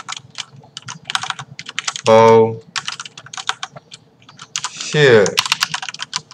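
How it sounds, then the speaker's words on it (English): Rapid clicking of computer keyboard keys while typing, steady close clatter broken twice by a short spoken word. "For this demonstration, I'll be typing various lore lines."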